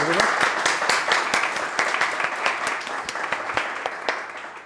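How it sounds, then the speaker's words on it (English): An evening audience gives a speaker a big round of applause as he is introduced, a loud, dense clatter of many hands that continues throughout and tapers slightly toward the end. "Big round of applause."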